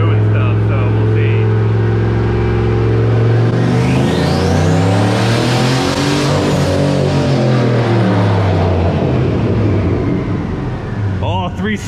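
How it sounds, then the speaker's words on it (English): A turbocharged 5.3-liter GMC Yukon engine roars loud and close through a first-gear dyno pull, its pitch sweeping up then dropping as the run ends, with voices briefly audible over it. "I did a first gear pull so it wouldn't load the motor as hard."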